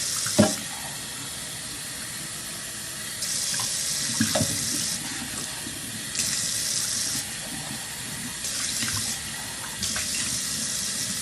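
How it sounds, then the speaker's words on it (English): Water runs steadily from a tap into a sink, its flow swelling and easing in turns, with a sharp knock near the start. "I clean the sink right after"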